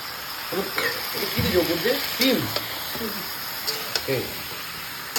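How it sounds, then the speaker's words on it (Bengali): Soybean chunks fry in a pan with a soft continuous sizzle and clinks and scrapes of a spoon stirring, while someone talks over the cooking. "এখন সোয়াবিন রান্না হচ্ছে শনিবারের স্পেশাল মেনু সোয়াবিন"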